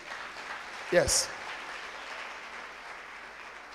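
A congregation at a church service bursts into acclamation, a short swell of applause and cheering with a single brief spoken word, settling into a steady crowd murmur.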